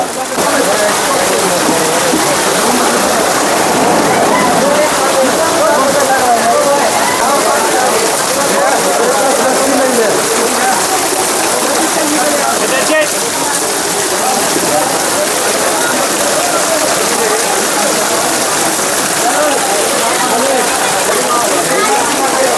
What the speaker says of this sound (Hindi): हम चढ़ाई के लिए निकले हैं गौरीकुंड से आगे के लिए और बारिश आ गई है बहुत तेज़।